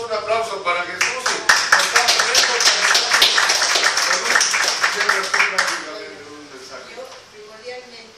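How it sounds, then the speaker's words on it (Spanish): Audience applause at a public recognition event in Xochimilco, a dense burst of clapping that swells quickly, holds for about five seconds, then thins into scattered claps and a few voices. "un aplauso para Jesús."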